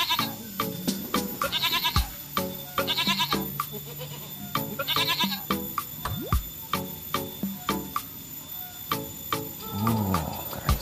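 A goat brought for Eid al-Adha sacrifice bleats loudly and repeatedly in nasal, wavering cries, close to the microphone. Sharp clicks and knocks sound between the calls.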